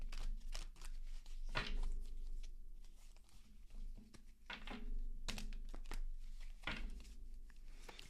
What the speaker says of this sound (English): give me a second here to shuffle